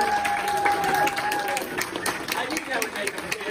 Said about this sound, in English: one last applause for our wonderful new couple